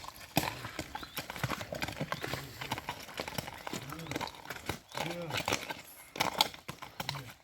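A mare's hooves clip-clop on a hard surface with irregular steps, close by, while a person talks over them and the horse snorts briefly.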